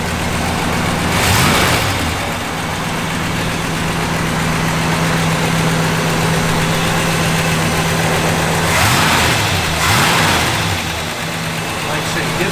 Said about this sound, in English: Just fires right up.